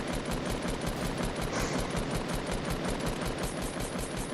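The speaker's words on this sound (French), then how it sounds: "Mais je tire sur l'escalier" Rapid automatic gunfire in a video game, aimed at a staircase, rattles on continuously and loudly as a dense, even burst with no pauses.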